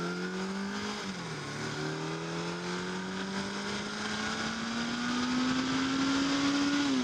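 A motorcycle engine drones steadily and up close, its pitch dipping briefly and then climbing slowly as the revs build, with no break in the sound.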